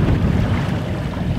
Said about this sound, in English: Another thing about this spot is the wind's just pounding in here today.